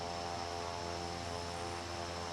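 A Klemm KL25 propeller engine in Microsoft Flight Simulator 2024 drones in a loud, unbroken, even hum with a buzzy tone and no voices over it.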